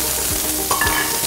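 Onions sizzle in extra virgin olive oil in a frying pan for a sofrito, a dense, steady crackle close up with a light stirring scrape, no voices.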